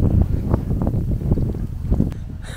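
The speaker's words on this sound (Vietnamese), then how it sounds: "Ôi, gió dã man." Strong wind gusts through the mountains of Mù Cang Chải in rainy weather, a loud, continuous low buffeting rumble that hits the microphone close up for the whole stretch, with no voices.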